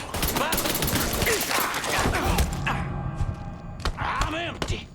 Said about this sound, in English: We got us a gunfight.